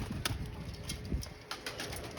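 Fancy pigeons such as pouters, fantails and high flyers coo in soft, low, throaty bursts that sound close. Brief flutters and chirps come from other birds in the loft.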